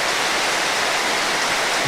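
Rain falls in a dense, even hiss that holds steady and fairly loud for a short stretch, with no voices.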